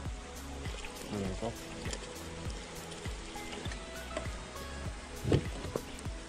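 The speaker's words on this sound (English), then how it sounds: "Put some water in there guys." Water is poured into a cooking pot outdoors, making soft trickling and splashing with light clatter. Voices murmur quietly underneath.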